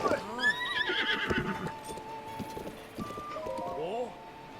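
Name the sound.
horse neighing in video game Zelda: Breath of the Wild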